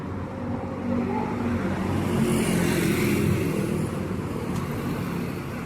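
A 2011 Toyota Altis idling and reversing, a steady close engine drone with a slight rise in revs, no talk.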